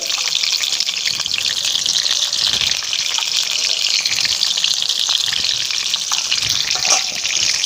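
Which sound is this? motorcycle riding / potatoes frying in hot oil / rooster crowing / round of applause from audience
potatoes frying in hot oil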